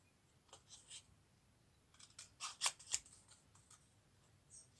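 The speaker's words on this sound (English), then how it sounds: "I didn't trim off these edges perfectly. Alright, I just want to trim that away." Scissors trim the edges of paper in a few quiet, close snips that cluster in a short burst, with near silence between cuts.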